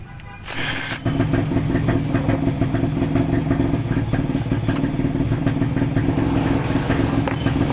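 A poorly maintained Honda Click scooter engine cranks and fires up after a brief whir, then settles into a steady, close rattling idle that continues to the end.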